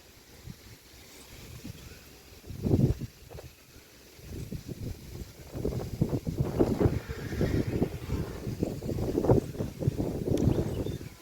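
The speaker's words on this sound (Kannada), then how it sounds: "ಮೋಸ್ಟ್ಲಿ ವಿಡಿಯೋದಲ್ಲಿ ಗಾಳಿ ಸೌಂಡ್ ಕೇಳಿಸುತ್ತೆ ಇಲ್ಲೋ ಗೊತ್ತಿಲ್ಲ. ತುಂಬ ಗಾಳಿ ಬೀಸ್ತಾ ಇದೆ." Strong wind buffets the microphone outdoors on an early morning, coming in loud irregular gusts and rumbles that grow stronger and more frequent toward the end.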